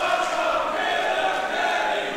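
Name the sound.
wrestling crowd cheering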